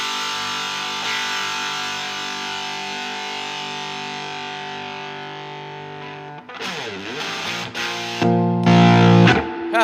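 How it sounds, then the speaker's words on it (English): A sustained, heavily distorted electric guitar chord through a distortion pedal and Fender Super Reverb amp rings out and slowly decays, then a few new fuzzy strums and bends follow. "So this is really a lot more distortion than it is overdrive."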